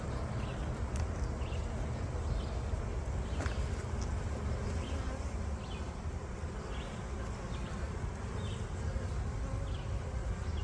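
Honeybees hum inside an open hive during an inspection, a steady dense buzz that fills the whole stretch at moderate level, with a few brief knocks and a voice faintly under it.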